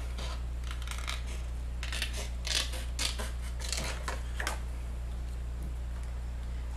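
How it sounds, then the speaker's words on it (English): Small scissors snipping through paper images, a string of quiet crisp cuts in quick irregular bursts close by, with steady low hum underneath and no talking. "So I'm using my smaller scissors now"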